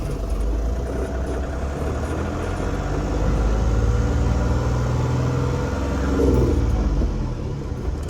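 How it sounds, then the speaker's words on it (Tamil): A modified Ashok Leyland Dost light truck engine growls with a deep, steady low-pitched rumble, heard close and continuous, with slight swells in loudness. "சவுண்டு பாருங்க, இன்ஜின் சவுண்டு அப்படியே உருமுது."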